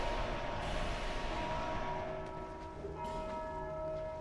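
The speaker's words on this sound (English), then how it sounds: "It's ringing the bell." A large bell tolls in a Dark Souls 2 game crypt, sustained and ringing in a faint, distant hum beneath a wash of ambient noise.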